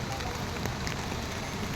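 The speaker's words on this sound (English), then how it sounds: "it has suddenly started raining and the intensity of rain has picked up, making the roads more slippery" Steady rain falling on a mountain trail on the Kedarnath trek, a dense, even hiss of drops with no breaks, fairly close and moderately loud, no voices.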